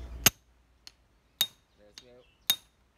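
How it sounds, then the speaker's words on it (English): Sharp metallic hammer taps on an engine head during assembly, three strong strikes and a couple of lighter knocks spaced irregularly, close and distinct, with a brief murmur of voice between them. "we have to use a hammer."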